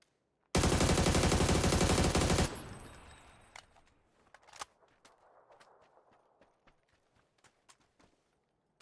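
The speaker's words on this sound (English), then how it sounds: "He's got a freaking MG3 over here" Loud sustained burst of automatic MG3 machine gun fire in the shooter game PUBG, lasting about two seconds, then fading into scattered sharp distant shots and faint clatter.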